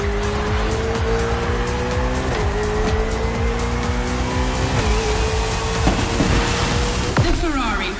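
A Ferrari racing car in The Crew Motorfest screams at high revs with gear-shift pitch drops and sharp tire squeals, close and loud throughout.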